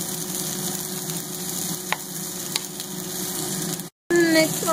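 Onions frying in a pan for Filipino pork bistek: a steady, even sizzle close by, continuous for several seconds, with a brief cut near the end.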